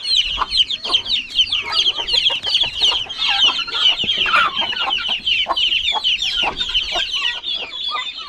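Many turkey chicks peep together in a dense, continuous chorus of high, shrill calls, close by.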